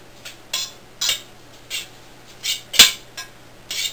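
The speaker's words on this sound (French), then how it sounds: "j'utilise environ une cuillère à soupe de pesto. Il faut bien mélanger." A spoon scrapes and knocks in steady rhythm against a pot while pasta is stirred together with pesto, producing about eight light, close clinks in under four seconds with no voices.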